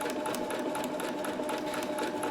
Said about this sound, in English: Start the stitch, reverse lock stitch, and then away we go.